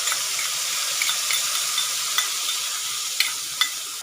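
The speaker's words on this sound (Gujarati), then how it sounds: "ધીમો કરી અને આપણે જે મરચાં અને મસાલાની પેસ્ટ બનાવી છે એ અંદર એડ કરી દઈશું." Chili and spice paste with asafoetida sizzles steadily in a hot pan, a constant frying hiss with a few small pops and crackles, close and alone without talk.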